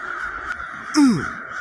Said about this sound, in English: All those birds.